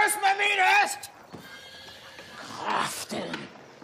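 A horse by a horse-drawn carriage whinnies loudly and close at the start. Someone shouts over it and a second, fainter whinny follows later.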